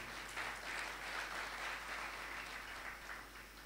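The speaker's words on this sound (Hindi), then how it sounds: "जम के बजाओ माताओं के लिए ताली।" A crowd claps steadily for the mothers at a Shrimad Bhagavat Katha religious discourse in Rameshwaram Dham, a dense, even wash of applause that carries on throughout, heard from some distance and fairly faint.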